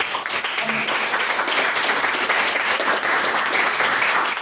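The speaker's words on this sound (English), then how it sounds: "I'm encouraging a lot of clapping this evening" Debate audience clapping in sustained, even applause from a room full of people, a steady dense patter with faint voices mixed in.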